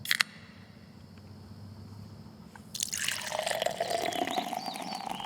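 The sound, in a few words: hard cider being poured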